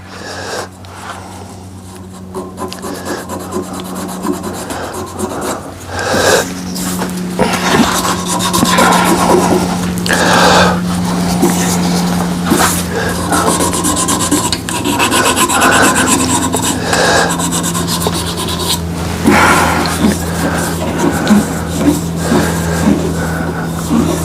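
A burl and epoxy resin shaving brush handle is sanded at 400 grit while spinning on a wood lathe, giving a loud, close, continuous raspy hiss over a steady motor hum for the whole stretch.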